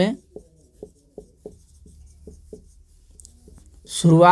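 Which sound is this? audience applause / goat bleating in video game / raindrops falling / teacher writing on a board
teacher writing on a board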